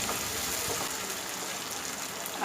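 Food sautéing in hot oil in a pan while making Tamil-style bread biryani, a steady close hiss and crackle that continues without a break.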